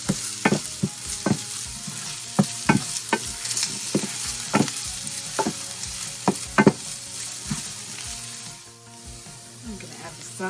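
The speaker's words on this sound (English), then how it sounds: "Go ahead and add the garlic. You're only going to saute this for another minute." Onions and garlic sautéing in a pan for salsa ranchera, a constant soft sizzle broken by sharp clacks of a utensil stirring against the pan, fairly close.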